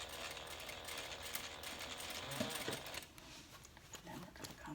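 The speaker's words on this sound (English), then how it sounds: "Sewing a ½ inch seam allowance." A sewing machine stitches a half-inch seam on a handbag, a faint, quick, steady mechanical whir of running stitches that eases off partway through and continues more softly.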